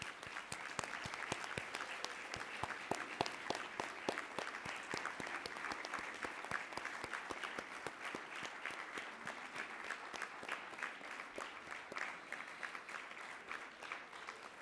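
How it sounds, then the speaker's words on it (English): Sustained applause from a conference audience thanking the volunteers at the closing of a 2017 Cayman Islands healthcare conference, steady dense clapping throughout at moderate distance with no speech over it. "please give them a big round of applause"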